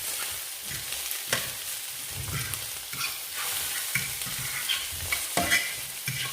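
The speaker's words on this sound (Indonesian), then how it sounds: "kalau udah scramble kayak gini, telurnya udah kecil-kecil kayak gini, udah agak matang" Eggs being scrambled in a frying pan, a low steady sizzle broken by repeated scraping and tapping strokes of a spatula, close and fairly quiet with no talking.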